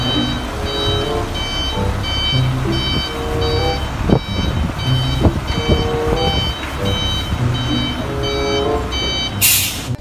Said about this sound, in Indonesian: Ini truk kontainer ekspedisi